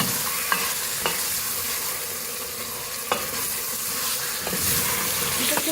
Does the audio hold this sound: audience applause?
no